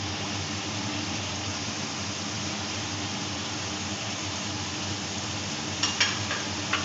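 Masala paste with freshly grated coconut sizzles steadily in a pan while cooking kochu shak, a constant close frying hiss with a few brief clinks of stirring near the end.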